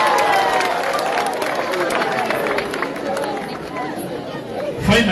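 Audience applause at a school education event in Kenya rolls on steadily, fading a little before a brief louder burst near the end, with crowd chatter mixed in.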